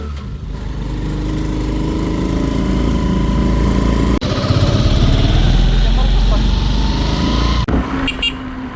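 A Filipino tricycle taxi engine drones steadily and loudly throughout, a continuous motor rumble with a brief break partway through.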